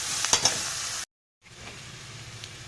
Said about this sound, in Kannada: ಈರುಳ್ಳಿ ಕೆಂಪು ಬಣ್ಣ ಬರೋವರೆಗೂ ಹುರಿತಾ ಇರಬೇಕು